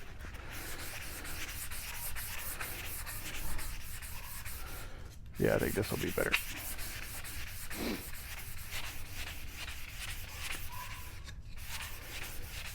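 Steady rhythmic scraping of hand sanding on wood continues throughout, close and fairly quiet, with a brief spoken remark partway through.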